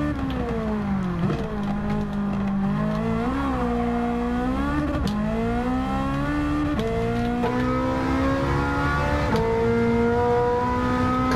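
A race car engine revving in a driving game, loud and continuous, with pitch rising and falling through repeated gear shifts and throttle changes, heard alone without speech.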